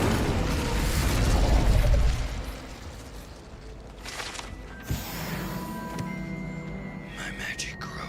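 In Hogwarts Legacy, an Incendio fire spell bursts out with a loud whooshing roar that swells for about two seconds and then fades. It is followed by softer pops, mechanical clicks and faint whispering.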